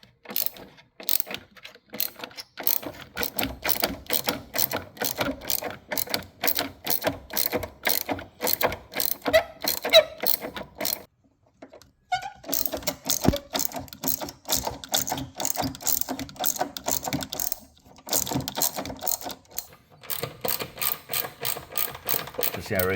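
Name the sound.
ratchet removing screws in a Kia Soul battery compartment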